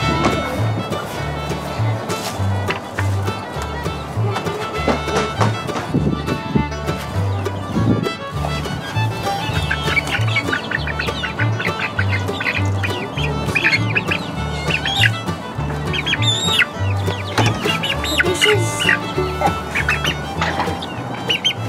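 Several pet chickens in a backyard coop cluck and squawk in busy, overlapping calls, loud and close, over a steady low drone, with children nearby.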